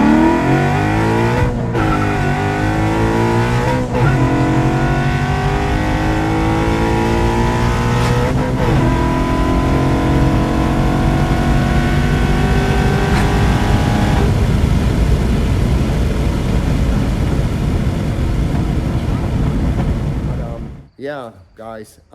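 A supercharged car with a Tremec manual gearbox accelerates hard through a timed run, engine roaring loud and close with rising revs and gear-change dips before the power cuts abruptly at the end.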